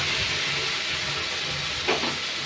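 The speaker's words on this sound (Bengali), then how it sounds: "শুকনো লঙ্কাটা দিয়ে দেওয়ার পরে এখন একটু কালো জিরা দেওয়া হলো।" Dried chillies and nigella seeds sizzling in hot oil in a kadai, a loud steady hiss close by with a brief spitting flare near the end, no voices.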